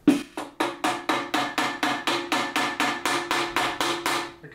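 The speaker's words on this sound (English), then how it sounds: "And then using the ball peen on the hammer," A ball peen hammer strikes a rivet on a Land Rover drive shaft set on a solid stake, about fourteen sharp, ringing metallic blows in a steady, even rhythm, close and loud with no talking.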